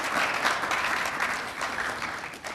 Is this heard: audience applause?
yes